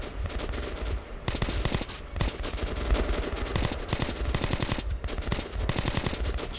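Enemy gunfire in Metro Last Light Redux hammers in rapid automatic bursts, loud and close, with dense overlapping shots and no pause throughout.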